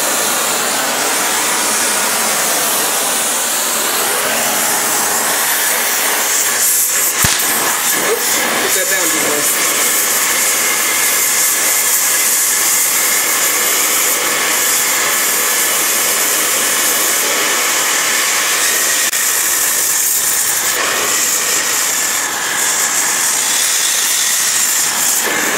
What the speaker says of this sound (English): So I figured I'd throw a light coat of paint on there.